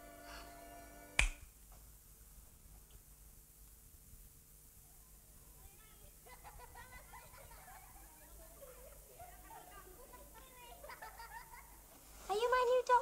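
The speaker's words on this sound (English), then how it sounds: "When I snap my fingers, you will wake up" One crisp finger snap rings out near the start, clear and close in a quiet room, followed by a soft, faint voice talking for a while and then louder speech at the end.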